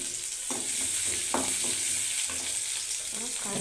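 Onion sizzling in hot oil with popped mustard seeds while a Tamil banana-flower poriyal is cooked, a steady bright fry hiss broken by scraping stirs of the spatula, close and continuous with no talking.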